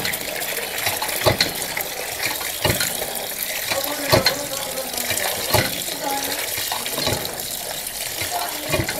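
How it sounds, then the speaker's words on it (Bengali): Water sloshes and gushes as 30 kg of beef is washed for cooking outdoors, steady splashing broken by repeated dull knocks, with faint voices in the background. "এখানে এখন ধোয়া হচ্ছে, অর্থাৎ পরিষ্কার করা হচ্ছে মাংসগুলো"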